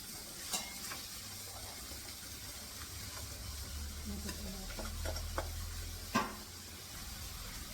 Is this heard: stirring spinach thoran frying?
yes